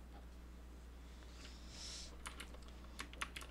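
The slash key above Enter is pressed on a computer keyboard, giving a few faint, sharp clicks near the end over a quiet background hum.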